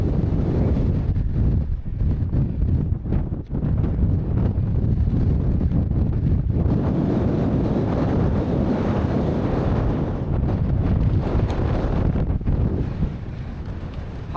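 Strong wind roars across the exposed summit of High Seat, a fell top in the Lake District, buffeting the microphone in a loud, continuous rumble with gusty surges and no talk.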